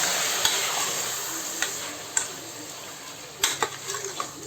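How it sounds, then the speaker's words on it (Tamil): Half a kilo of washed mutton frying in a pan with a soft continuous sizzle, and a ladle stirring and tapping against the metal in scattered clicks, louder toward the end. "இப்போ நான் வாஷ் பண்ணி வச்சுருக்கிற இந்த 1/2 kg மட்டனை போடுறேன். போட்டு ஒரு நல்லா மிக்ஸ் கொடுங்க."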